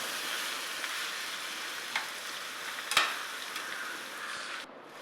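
Three beaten eggs frying in a pan with cooked fish, a steady bright sizzle with a couple of brief spatula scrapes near the middle, close by and alone, ending in a sudden drop.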